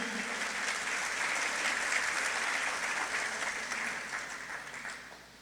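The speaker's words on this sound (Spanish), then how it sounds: "Dale un fuerte aplauso al Señor en esta mañana." A church congregation applauds in a steady, dense wash of clapping that fills the room and slowly fades toward the end, with no talking over it.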